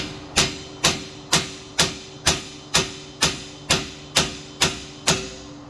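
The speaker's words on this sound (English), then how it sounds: "then I'm going to hit it with the hammer" About eleven sharp metallic hammer strikes on a 21mm socket against a lower ball joint of a Dodge Charger R/T, at a steady, even pace, each loud and close with a brief ringing decay, no talking.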